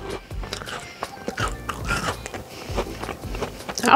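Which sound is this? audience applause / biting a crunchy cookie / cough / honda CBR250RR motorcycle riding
biting a crunchy cookie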